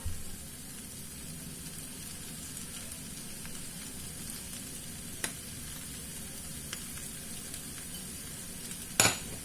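Chicken and coriander sizzle in a wok as they are stirred, a quiet, steady hiss with occasional faint taps and a louder scrape near the end.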